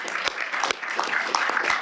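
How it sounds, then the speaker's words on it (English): Applause from a council governing body meeting audience for its maiden speakers, a steady wash of many hands clapping at moderate volume throughout, with a few sharper individual claps standing out. "Let's have another round of applause for them."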